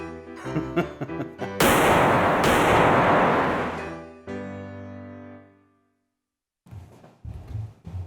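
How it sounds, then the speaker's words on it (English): A gun fired at a guitar gives a loud, sharp blast, then a second burst. The struck strings ring on and fade away over a few seconds, followed by brief thumping and handling noise. "Now we're gonna shoot it."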